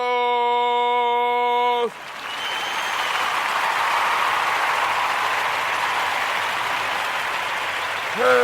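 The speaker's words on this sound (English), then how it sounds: "So let's give Miss Navita a round of applause." Applause for a show host fills most of the stretch as a steady, dense wash of clapping from an audience, following a short burst of sustained tonal sound at the start.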